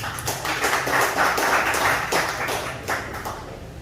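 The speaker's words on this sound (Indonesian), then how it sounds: "Di tepuk tangan buat Mbak Melani Subono." Audience applause for Melanie Subono at a talk event, a loose burst of clapping that swells and holds for several seconds, then thins with a few scattered claps near the end; fairly close and moderately loud.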